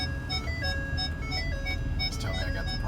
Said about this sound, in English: Let me get this beeping to stop.